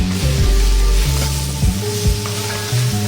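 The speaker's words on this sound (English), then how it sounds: "we're going to get in the chili flakes, the chili powder, the salt and the pepper. Again, we're going to stir fry that around. High heat." Potatoes stir-fried over high heat with chili flakes, chili powder, salt and pepper, giving a loud, steady sizzle with a few scraping stirs and tool clinks in the pan.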